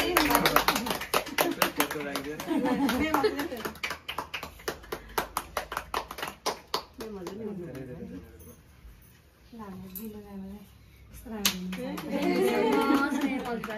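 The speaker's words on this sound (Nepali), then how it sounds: "ताली ताली" A group of people claps in quick rhythmic bursts during a gathering in Pokhara, Nepal. The sharp claps come fast for several seconds, then ease off as voices talk and chatter over and after them.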